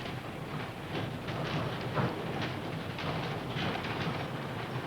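Train running on the railway through central Otago, a steady rumbling roll with faint rhythmic clatter from the wheels, continuous and fairly subdued.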